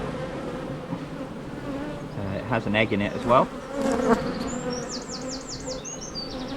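Honey bees swarm over an open hive frame, a dense, loud buzzing hum close by, with a few individual bees zipping past and a person speaking briefly over it.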